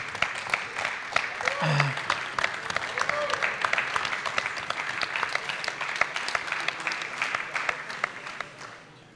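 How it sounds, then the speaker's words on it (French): Audience applause after a talk on managing success in team sports, sustained, moderately loud clapping running throughout, with a brief voice near the start. "je pense qu'on peut aussi applaudir"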